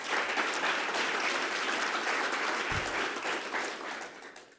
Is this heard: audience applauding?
yes